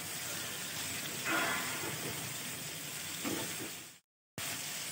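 Finely chopped capsicum and vegetables frying in a pan for chicken stew, producing a continuous quiet sizzle with occasional stirring scrapes and a brief gap of silence near the end.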